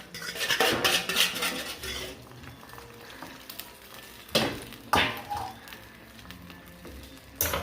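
Seasoned pork chops being mixed in a bowl, with repeated scraping, clinking and stirring sounds, loud at moments and quieter between.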